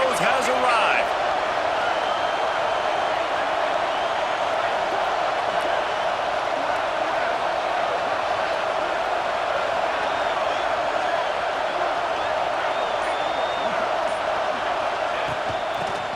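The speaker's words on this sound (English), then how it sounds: "This crowd knows they have to bring it in big moments" A stadium crowd in the EA Sports College Football 26 video game gives off a steady, dense roar that holds at a constant level throughout, with no distinct peaks of cheering.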